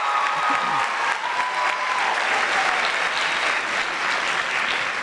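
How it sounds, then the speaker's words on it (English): Dense, steady applause from an audience at an awards ceremony honoring an assistant principal, a continuous wash of many clapping hands at even loudness with no talk over it. "we do deserve to give her a round of applause"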